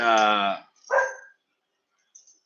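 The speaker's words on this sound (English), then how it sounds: "I have dogs." Dogs barking in a home, two loud barks close together, the first long and harmonic, followed by a faint yip, with no talk in between.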